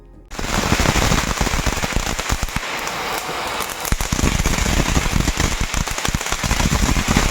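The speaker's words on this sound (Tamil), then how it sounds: "இது வந்து எமோஜி பட்டாசு" Emoji-type Diwali firecrackers burst in a rapid, continuous crackling barrage, loud and close, popping nonstop for several seconds.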